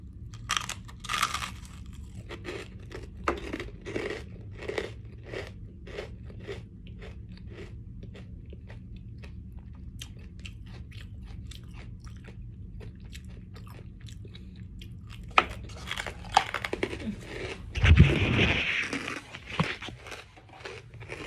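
Someone chews a crunchy frog-shaped snack topped with butter, steady close crunching bites repeating for a long stretch before a louder rustle near the end.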